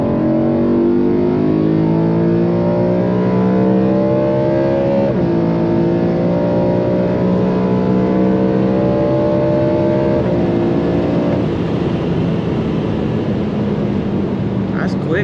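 A BMW E92 M3 engine revs and accelerates, rising in pitch through the gears with a brief drop between shifts, loud and close throughout.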